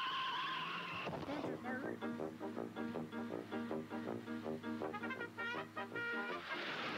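A car engine drones loudly while tires squeal in long, shrill bursts, with a continuous harmonic screech and a brief rumble at the start.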